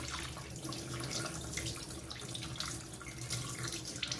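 Running tap water splashes into a sink as raw, previously frozen chicken is washed under it, a steady close gushing with shifting splashes as the pieces are handled, no voices.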